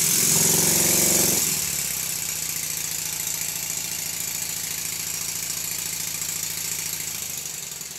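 A small model steam engine runs steadily nearby with a fast, even chuffing beat; a brief louder mechanical burst opens before it settles into its rhythm.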